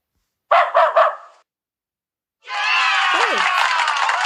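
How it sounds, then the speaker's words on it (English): A dog gives three quick, close barks in a row, followed after a short silence by a longer burst of crowd cheering and clapping mixed with voices. "Where is a dog?"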